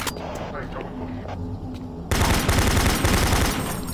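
Video game gunfire in a bathroom area: a quiet first half with faint sounds, then a sudden loud burst of rapid shots that continues to the end.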